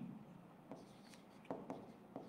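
Chalk or marker strokes on a classroom board during an English lesson: quiet, scratchy writing with a few short, distinct taps and squeaks over a couple of seconds.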